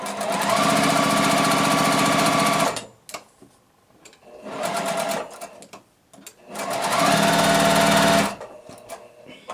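A sewing machine runs through a quilt seam on a beginner quilt block, three loud, close bursts of rapid stitching with quiet gaps between them.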